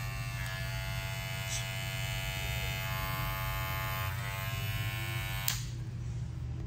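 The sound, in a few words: gold electric hair clipper running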